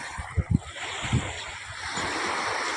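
Sea waves wash at a white-sand beach in a soft, steady hiss of surf with some wind rumble and a few low thumps.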